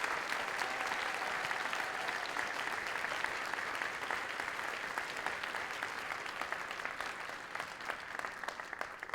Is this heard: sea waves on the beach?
no